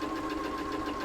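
Brief, close burst of a sewing machine running a quilt block seam along the edge of the presser foot, an even mechanical whir with no voices.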